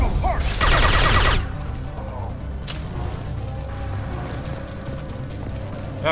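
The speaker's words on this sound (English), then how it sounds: "Firing a high-impact shot" A high-impact gunshot in the video game Mass Effect 2: one loud, dense burst of gunfire noise lasting under a second near the start, then a quieter low rumble of game ambience with a brief sharp click partway through.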